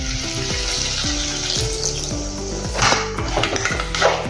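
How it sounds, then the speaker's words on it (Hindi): Water poured into a pan of potatoes frying with spices for aloo baingan, a loud hissing sizzle that flares as the water hits, with clinks of pan and spoon, close up and without speech. "थोड़ा सा इसमें हम पानी डालेंगे"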